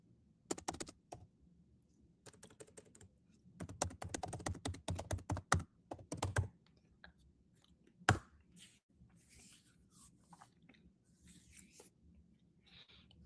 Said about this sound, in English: I want to type in the chat